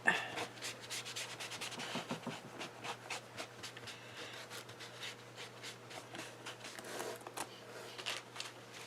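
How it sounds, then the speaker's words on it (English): A craft stencil is rubbed clean by hand: a quiet, close series of repeated scrubbing strokes in an irregular rhythm, with no voices. "I'm going to clean it off a little bit."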